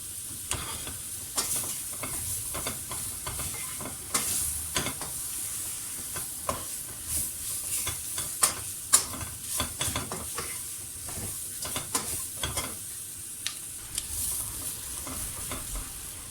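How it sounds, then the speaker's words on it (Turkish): Onions and potatoes are stirred and sautéed in a soup pot, with continuous sizzling and frequent rhythmic scraping and clacks of the utensil against the pot, close up and with no talking. "Şimdi içine soğanlarımızı ve patateslerimizi ekliyoruz. karıştırıyoruz."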